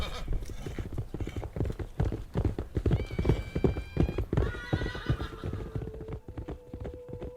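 Horses' hooves clip-clopping on the ground in a staged radio-drama effect, a busy overlapping gallop of several riders close by, with a horse whinnying partway through.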